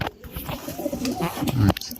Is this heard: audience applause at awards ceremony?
no